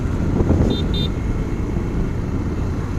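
Steady road traffic rumbles through a city street in Ambikapur, with car engines and a couple of short horn toots near the start over continuous low engine noise.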